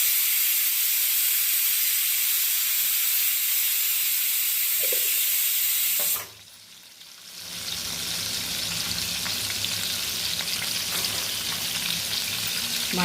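Eggs frying in a pan on a stove during home cooking of a prawn and egg curry: a steady loud sizzle and hiss, a brief lull midway, then a strong, crackling sizzle resumes and holds, with no talk.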